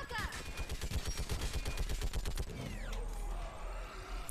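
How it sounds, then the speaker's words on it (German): A mounted gun turret fires in Mass Effect 3: a rapid, loud burst of evenly spaced shots for about two seconds, then mechanical whirring and creaking as the weapon winds down, with faint voices underneath. "Gehen Sie an das Geschütz und lassen Sie es krachen."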